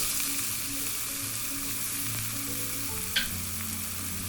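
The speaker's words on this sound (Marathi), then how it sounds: "कांदा व्यवस्थित परतून घ्यायचा आहे" Finely chopped onion fries with cloves in a pan for a cashew curry, a close continuous sizzle with one brief clink of a utensil, no voices.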